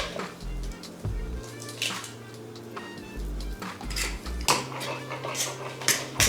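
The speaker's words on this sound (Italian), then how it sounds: "Lavoratela bene la ricotta con la forchetta e schiacciate, unite tutti gli ingredienti insieme" A fork works a ricotta filling in a bowl, mashing and mixing it with repeated clinks and scrapes against the bowl and soft squishy sounds. The sounds are close and come at an uneven pace.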